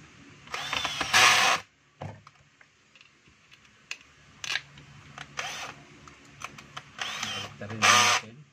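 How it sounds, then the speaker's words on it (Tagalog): A screw is fastened into the housing of a DeWalt 7-inch grinder, giving a few short close mechanical clicks and scrapes. Brief bursts of whirring are mixed in, separated by quieter handling noises. "So lalagay na natin yung screw"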